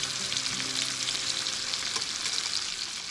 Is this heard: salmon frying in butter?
yes